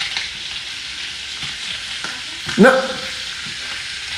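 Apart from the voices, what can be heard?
block of cheddar cheese sizzling in a frying pan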